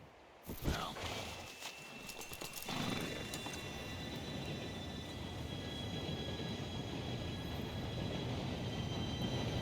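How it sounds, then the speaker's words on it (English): Train arriving in Red Dead Redemption 2, a rising, steady rumble and rolling clatter that swells and holds as it draws near, with horse clip-clops and a few short sounds at the start. "Train should be here any minute."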